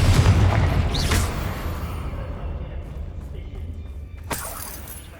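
The Confringo spell goes off in Hogwarts Legacy as a loud, booming blast up close, then fades into a rumbling tail, with a sharp crack near the end.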